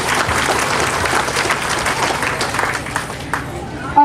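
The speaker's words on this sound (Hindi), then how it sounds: "जोरदार तालियां।" Loud applause from a crowd at a development programme event, dense sustained clapping filling the space for several seconds, with voices mixed in.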